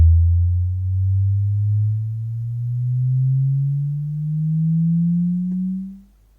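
Steady low sine test tone through a subwoofer at about 100 watts, medium loud, holding for several seconds with a slight upward drift before cutting off.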